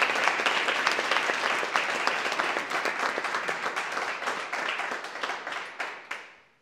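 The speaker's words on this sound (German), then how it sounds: "Dein Applaus für euch zwei vom Publikum da." Studio audience at a sports talk show applauding, a sustained round of clapping with distinct individual claps that thins out and fades away at the end.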